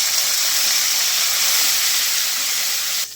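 Curry leaves sizzling in hot oil, a loud steady hiss and spatter close by that cuts off abruptly at the end.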